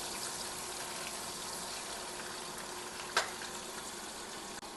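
Onion frying in a pan, a steady bright sizzle throughout with a single sharp pop partway through, heard up close and without talk.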